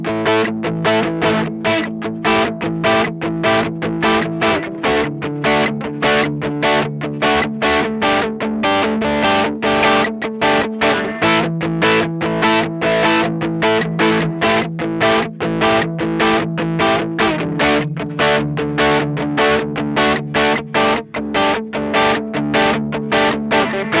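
A 2008 Gibson Explorer electric guitar played through heavy distortion with neck and bridge pickups combined, loud driving rhythmic chords and palm-muted chugging throughout, alone without voices.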